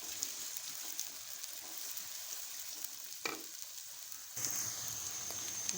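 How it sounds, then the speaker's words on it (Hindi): Onions frying in a pan: a steady, soft, continuous sizzle with a faint crackle, one brief clack midway, and the hiss growing slightly fuller toward the end. "प्याज फ्राई हो रहे हैं"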